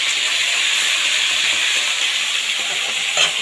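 Tilapia fish fries in hot oil in a home kitchen, a loud, steady hiss of sizzling with crackles and spatters throughout and a sharper pop near the end, no voices.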